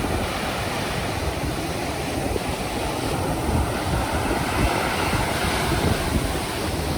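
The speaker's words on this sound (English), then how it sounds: "the waves are angry, high energy today" Heavy surf roars without pause at the St Lucia river mouth, with waves crashing and churning in a dense, rumbling wash, and wind buffeting the microphone.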